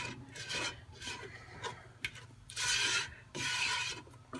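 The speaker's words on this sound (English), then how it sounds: "I'm going to get a rubber spatula here too to scrape down the sides." Rubber spatula scraping cocoa mixture down the sides of a pan, with soft rasping strokes in uneven bursts, close and fairly quiet.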